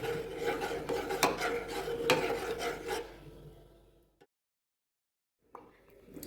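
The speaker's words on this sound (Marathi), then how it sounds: "आपल्याला असंच हलवत राहायचं आणि गाठी पडू द्यायच्या नाही" Rice flour batter cooks in a pot for kurdai papad while a spoon stirs it continuously, making a close, rasping scrape with soft rhythmic strokes. The stirring fades out, near silence follows, and a faint clink of the pot comes afterward.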